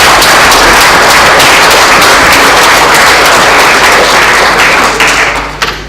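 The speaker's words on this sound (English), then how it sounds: "I think we need to give ourselves a round of applause" Council members applaud in a meeting chamber, dense loud clapping from many hands filling the room and then tapering off at the end.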